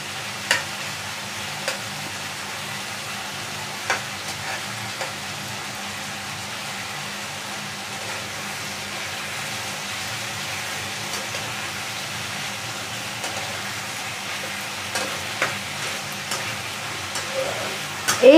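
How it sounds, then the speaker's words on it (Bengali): Potatoes and tomatoes fry in a pan for a drumstick (sajne data) curry, giving a steady close sizzle with a few sharp scrapes and clinks of stirring scattered throughout, no voices. "আলুটা বেশ সুন্দর ভাজা ভাজা হয়ে এসছে, আর টমেটোটা আর একটু ভাজা ভাজা হয়ে এলে"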